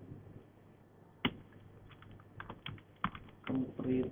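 Computer keyboard typing in irregular clusters of soft clicks, with one sharper keystroke, over a faint hum, a short tone and a muffled low background.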